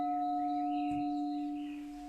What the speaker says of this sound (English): A little singing bell.